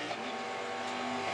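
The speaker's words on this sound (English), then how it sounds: "He's on and off the throttle a lot." A race car at the Bathurst 12 Hour endurance race, its engine snarling in a brief continuous burst with slight pitch wavering, heard at a distance without talk.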